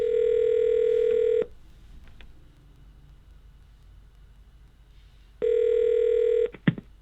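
Telephone dialing tones on an office call, two loud steady electronic tone bursts separated by a few seconds of quiet line hiss, with a brief click-like beep at the end.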